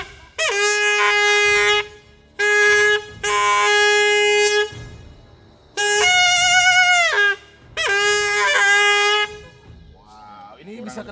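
A trumpet made from buffalo horn is blown to call wild pig-tailed macaques, giving five loud, sustained, nasal blasts of about a second or more each, separated by short pauses, with quieter sounds between.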